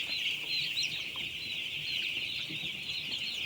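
A brooding farm full of three-day-old chicks peeping in a dense, constant chorus of high chirps, steady and fairly close, with no voices over it.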